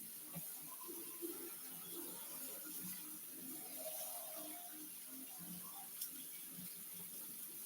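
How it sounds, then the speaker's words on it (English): Running tap water pours while something is rinsed and washed in a sink, a steady close splashing with small gurgles and clinks; no talking. "So now let's rinse this off and kind of wash it."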